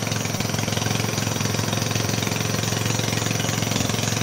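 A motorized riverboat engine on a river in Laos, a loud steady mechanical chugging drone with rapid even pulses, close and continuous, with no voices.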